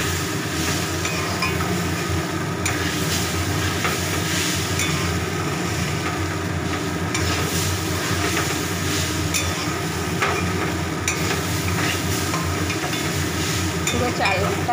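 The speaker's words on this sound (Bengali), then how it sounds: "খুব ভালো করে এটা এখন আরও কষবো" Rice and lentils being stir-fried with spices in a pot, a continuous close scraping and sizzling as the mixture is turned and pressed, with a steady low frying rumble underneath.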